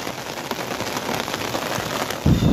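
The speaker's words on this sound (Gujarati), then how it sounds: "વરસાદ થોડોક ધીમો પડ્યો છે હવે" Rain falls steadily on surfaces in the Gir countryside during a monsoon spell, a dense, even patter close by, ending in a sudden louder low rumble.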